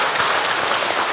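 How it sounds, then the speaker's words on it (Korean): A church congregation at a revival meeting claps in a brief, dense burst of applause, loud and steady with no pauses. "이럴 때는 박수를 치더만"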